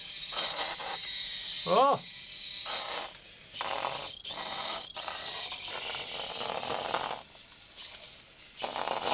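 An art-painting robot's mechanism backs up with ratcheting, gear-like clicks and whirs in bursts, close by, under a loud steady vacuum roar, with a brief exclamation from a person.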